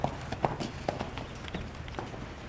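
A mare's hooves clip-clop on the footing of a round pen as she moves off, a quick, irregular run of close, distinct hoofbeats with faint background sound.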